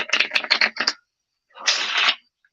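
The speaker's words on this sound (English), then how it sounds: "Place it into the back of the deck, give it a little shuffle just like so" A deck of playing cards being shuffled: a quick run of crisp riffling bursts, then a short pause and one denser, sustained riffle, close and fairly loud with no talk over it.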